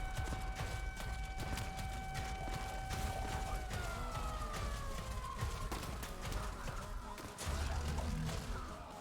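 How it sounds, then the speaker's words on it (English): Sirens in the video game Warframe: steady wailing tones that later slide downward, under a dense clatter of in-game effects. "Don't you hear the sirens?"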